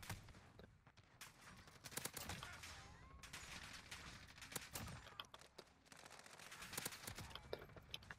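Warzone video game gunfire against practice bots comes as scattered, faint bursts of rapid shots and single cracks spread through the clip, with quiet stretches between.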